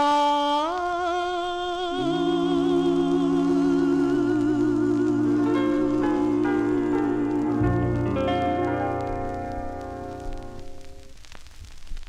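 A 1954 doo-wop record plays as a continuous, full-sounding vocal group R&B recording with steady harmonies and backing instruments, gently fading near the end.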